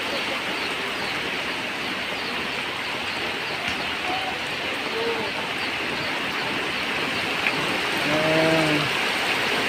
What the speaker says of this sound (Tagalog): Lumakas pa yung ulan.